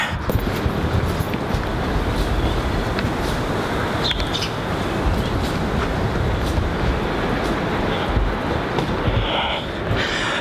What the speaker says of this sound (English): I just got off the train station